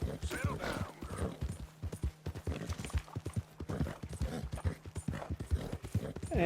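Hooves of a Spotted Appaloosa horse in Red Dead Redemption 2 clip-clopping at a steady, rhythmic gait, close and clear, with a voice talking over them at times.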